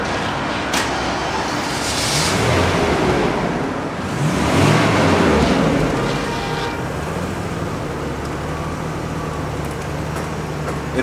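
A 1989 Jaguar XJS V-12 convertible with 38,000 miles fires up nearby, then settles into a smooth, steady, even idle that holds for several seconds with no talking.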